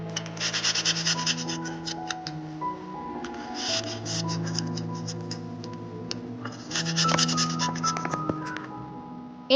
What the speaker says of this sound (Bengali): প্রথমে আদাটাকে গ্রেট করে নিচ্ছে মা